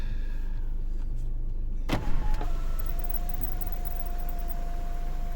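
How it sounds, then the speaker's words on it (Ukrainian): Panoramic sunroof motor on a 2012 Nissan X-Trail T31 2.0 dCi runs with a steady electric whine after a brief clunk, close and clear inside the car's quiet cabin, with no talking. "Так, панорама обіцяв вам показати, що працює."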